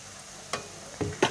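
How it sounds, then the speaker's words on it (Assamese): Ginger-garlic paste, onions and bay leaves frying together in a pan for egg curry: a faint steady sizzle broken by three short stirring scrapes, close and quiet, no talking. "আদা, নহৰু আৰু পিঁয়াজ, তেজপাত গোটেইখিনি একেলগে অলপ সময় ফ্ৰাই কৰি থাকিব লাগিব"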